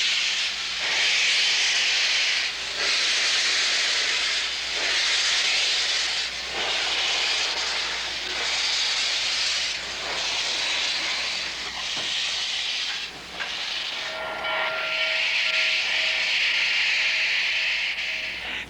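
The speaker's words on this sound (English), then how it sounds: "number 611 moved under steam for the first time in 22" Steam locomotive number 611 hissing steam, a loud, harsh rush that swells in repeated surges every couple of seconds, continuous and close, with no voices.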